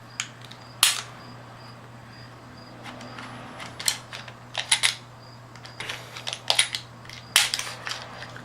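A handgun's slide is worked off the frame during disassembly, with a series of close sharp metallic clicks and scrapes against a low steady hum.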